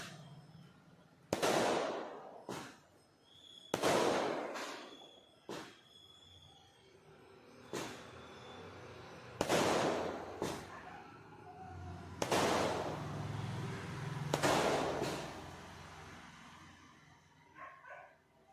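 Festival firecrackers burst at night, a series of separate loud bangs spaced several seconds apart, each ringing out briefly, with a dog barking faintly between them.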